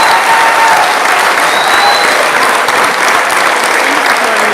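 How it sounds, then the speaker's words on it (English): Dense, loud applause from the audience at a 10th Congressional District debate, a steady wash of many hands clapping that holds evenly throughout with no break. "Please give them all a round of applause."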